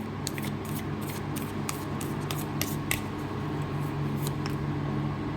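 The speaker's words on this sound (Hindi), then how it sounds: "अब और हम थोड़े से कार्ड्स ले लेते हैं" Oracle cards drawn from a deck, giving soft, faint papery flicks and light clicks scattered over several seconds against a low steady background hum.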